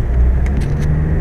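A TDI diesel car engine with a turbo that cuts out, revved hard nearby in a short loud burst, with deep rumbling throughout.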